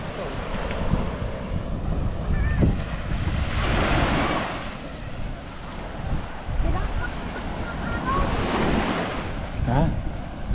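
Ocean waves surge and wash in steady swells under strong wind buffeting the microphone, with people talking faintly nearby.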